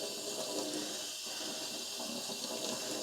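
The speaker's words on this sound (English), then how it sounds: "This is just cold tap water." Cold tap water runs steadily over freshly dyed cotton embroidery floss in an icy blue shade, a continuous close splashing and hissing stream with small fluctuations and no talking.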